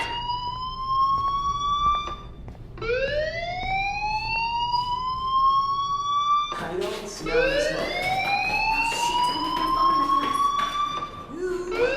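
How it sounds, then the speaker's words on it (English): A school fire alarm in the Life is Strange video game, rising electronic whoops repeating in long sweeps, loud and close, with a brief gap and extra clatter partway through. "do you hear that fire alarm? That means you should be outside."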